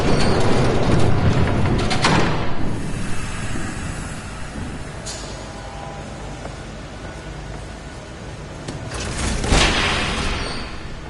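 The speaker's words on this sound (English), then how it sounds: "There's a train coming." A train rumbling past in Batman: The Telltale Series, a loud, sustained roar that fades through the middle and swells again near the end, with no talking.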